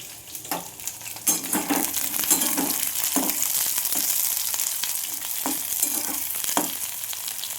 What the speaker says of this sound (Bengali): পেঁয়াজ ভেজে নিচ্ছি